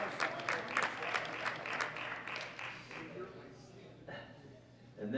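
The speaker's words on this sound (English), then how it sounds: "So give them all a big round of applause as Sigurd gives each of them a medal." Audience applause at a junior world powerlifting championship medal ceremony, fairly distant clapping that gradually thins out, with an announcer's voice over the start.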